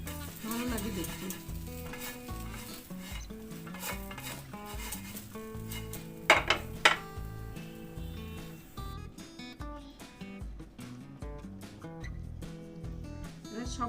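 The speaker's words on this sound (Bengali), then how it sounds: "চাট মশলা আর চিলি ফ্লেক্স দিয়ে ভেজে নিলাম" Sweet potato fries and is stirred in a pan with chaat masala and chili flakes, making a continuous close sizzle broken by scraping stir strokes and a couple of sharper utensil clatters midway.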